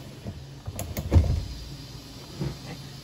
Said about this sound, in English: And then from there, you can open your window.